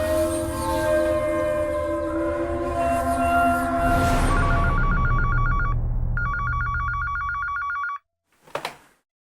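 A telephone rings in repeated electronic bursts, loud and close, over a fading musical backdrop, then cuts off abruptly and is followed by a brief clatter.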